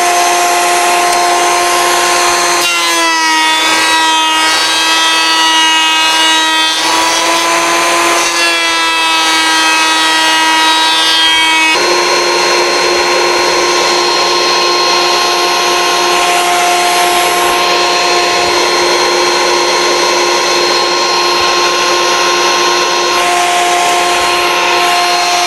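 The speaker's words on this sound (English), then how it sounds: "we took our piece that we cut on the bandsaw and we've run it through the planer now" Wood planer running while a board is fed through in an aircraft-building workshop: a loud, sustained machine roar with a steady whine, its pitch and texture shifting as the cut engages and the board passes through.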